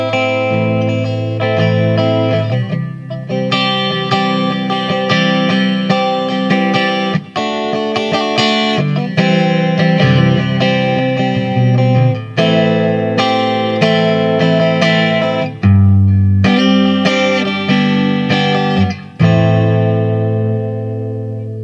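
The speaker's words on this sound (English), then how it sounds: "as you can hear when I hit a sharp chord, there is stereo echo. It's a sort of ping pong echo going on" A clean electric guitar plays sharp chords through a stereo ping-pong echo, each strike ringing out and repeating, loud and sustained with brief gaps between phrases and no voice.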